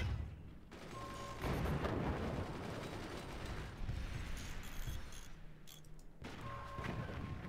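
Weapons fire in the multiplayer strategy game Forts on the Moorings map: a dense, continuous barrage of gunfire and heavy booms that holds loud throughout, with no talk.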